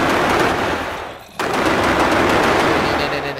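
Guards in Minecraft with a zombie mod let loose long rapid bursts of automatic gunfire, loud and dense, with one brief break before the shooting starts again.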